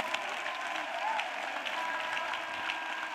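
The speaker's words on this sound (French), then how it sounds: "Acclamation à Jésus-Christ." A church congregation applauds at a worship gathering, a sustained even wash of many hands clapping at moderate distance and filling the whole moment with dense, steady claps.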